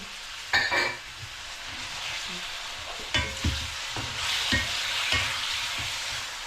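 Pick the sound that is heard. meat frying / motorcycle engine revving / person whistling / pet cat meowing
meat frying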